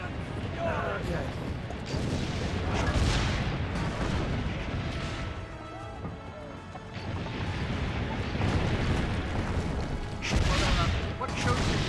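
Cannon fire in the video game Assassin's Creed Brotherhood, with heavy booms and crashing impacts rolling through a dense, continuous battle din, bursts peaking around three and ten seconds.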